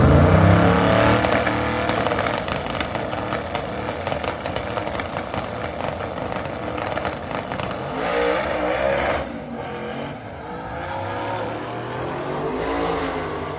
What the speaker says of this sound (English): Alexis on the left side of the racetrack in her first drag and drive ever in the 1969 twin-turbo LS-swapped Camaro